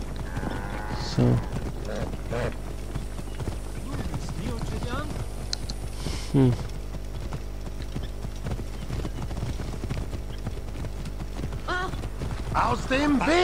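Horse hooves clip-clopping steadily while riding in Assassin's Creed Origins, a moderate rhythmic clatter under background game music, with a few short snorts and a man murmuring briefly.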